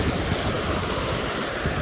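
Sea waves roll steadily onto Simar beach in a continuous broadband wash with some wind noise, fairly close and unbroken, with no voices.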